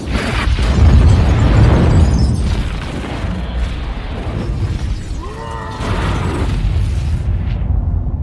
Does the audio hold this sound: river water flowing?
no